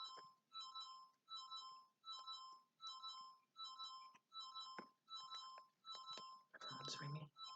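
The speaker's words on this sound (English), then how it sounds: "Phone's ringing." A phone rings in a repeating pattern of bright electronic trill bursts, about eight evenly spaced rings, with a clattering noise at the end.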